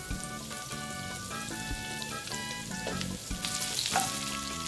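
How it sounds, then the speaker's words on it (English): Carrots and cauliflower stir-fry on high heat in a pan with garlic, a steady close sizzle with tonal clinks and scrapes of stirring throughout, no talking. "Let's fry these vegetables for 1 minute on high."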